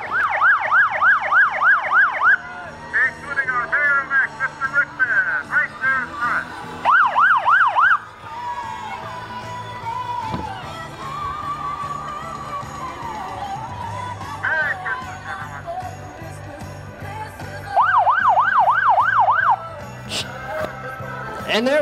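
A San Joaquin County Sheriff's Department vehicle in a holiday parade sounds its siren in repeated rapid yelping bursts, loud and near, with a crowd murmuring and a voice on a loudspeaker between bursts.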